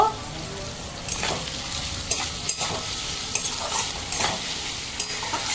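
A spoon stirs mourala fish curry with onions and salt in a pan of mustard oil, giving a steady sizzle with repeated scraping strokes, close and moderately loud.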